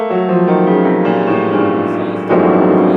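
A piano scale rings out with notes blurring together under the sustain pedal, building a dense, resonant wash that swells again near the end.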